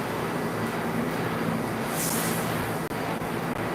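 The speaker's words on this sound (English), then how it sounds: "Hear that subway running? The D train is right above us." A continuous low rumble of a New York D subway train passing overhead, steady and enveloping, with faint rattles and a brief hiss midway.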